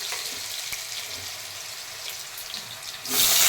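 Water runs steadily from a tap into a basin, a close, continuous splashing rush that swells louder and brighter toward the end.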